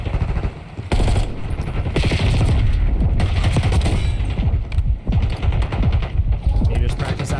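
Rapid automatic gunfire from shooting bots in a Call of Duty match, dense bursts and sustained loud fire with clanking weapon mechanisms, some voice mixed in.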